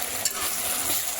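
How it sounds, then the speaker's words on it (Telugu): Garlic paste frying in a pan, a steady close hiss of sizzling with a faint stirring scrape, brief and continuous. "ఇలా గార్లిక్ పేస్ట్ పచ్చివాసన పోయే వరకు ఫ్రై చేసుకోవాలి"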